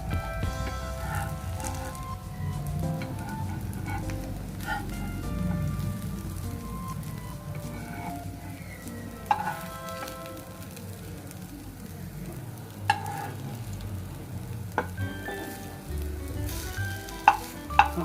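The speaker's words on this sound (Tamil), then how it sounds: "இதை ஃப்ரை பண்ணி எடுக்கலாம்." Soya kebabs fry in hot oil with a loud, steady sizzle and crackle, punctuated by a few sharp pops and clinks. Nobody speaks over the frying.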